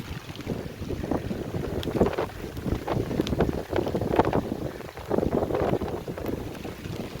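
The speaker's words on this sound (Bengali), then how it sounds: "প্রচুর বৃষ্টি পড়ছে, মানে ট্রিমেন্ডাস বৃষ্টি পড়ছে" Heavy rain drums loudly and steadily on the Matla River, heard from a boat, a dense hiss with scattered sharper patters, while gusty wind buffets the microphone.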